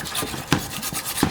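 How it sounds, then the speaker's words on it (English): Steel boiler of a German Bing large horizontal model steam engine scrubbed while soaking in vinegar: rhythmic rasping brush strokes, close and fairly quiet, with a sharper scrape landing about every second. "I'll give it a scrub first while it's still in the vinegar"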